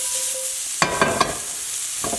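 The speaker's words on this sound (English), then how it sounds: "Let's do another fast toss" Steak and Brussels sprout stir-fry with carrot and ginger gets tossed in a hot pan. A faint sizzle runs underneath while three quick clattering tosses land close together, followed by one more a moment later.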